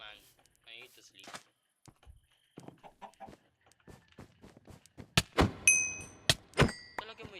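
Clucks from a chicken in a Minecraft-style video game come in a quick series of sharp, loud bursts, following quieter chatter and game sounds earlier on.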